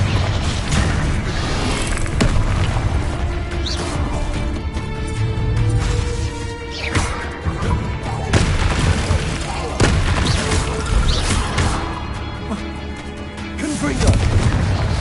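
Confringo spell explosions in Hogwarts Legacy go off as a rapid series of booming blasts and sharp pops. The loud bursts are spread across the whole stretch, mixed with voices and busy game sound.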